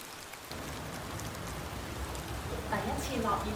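Steady rain patters throughout, with voices chattering over it toward the end.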